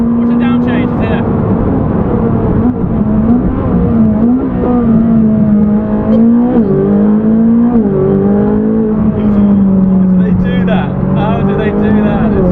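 A Ferrari 458 Speciale's engine roars loudly from the cabin, pitch stepping through quick dual-clutch shifts including a downshift with a sharp blip in revs, while a voice talks faintly underneath.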